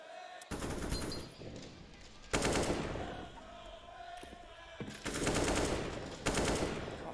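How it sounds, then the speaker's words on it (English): Gunfire in the video game CS:GO during a FaZe versus Cloud9 professional match, with dense bursts of automatic rifle fire in several stretches over a steady crowd murmur. "Crossfire shots for Rops inside of the smoke"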